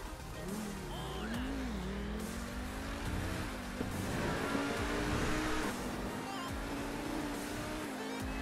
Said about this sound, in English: And this car is just insane for racing.